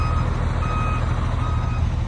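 Steady electronic reversing beeps from a truck creeping slowly backward on the clutch during an L-park driving exam, with a low diesel engine rumble beneath and no talking.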